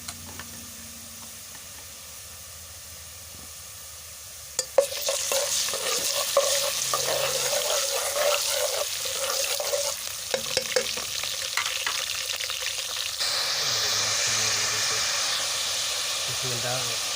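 Garlic sizzles and fries in a hot pan while being cooked for daal, with a loud steady hiss, intermittent stirring knocks of a spoon, and someone talking over the cooking.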